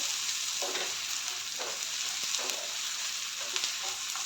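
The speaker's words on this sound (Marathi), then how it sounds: "टोमॅटोला आता आपण चांगलं सॉफ्ट होईपर्यंत फ्राय करून घेऊया।" Chopped tomato sizzles in hot oil in a pan for spicy masala prawns, a steady bright frying hiss with soft periodic stirring scrapes, close and alone without voices.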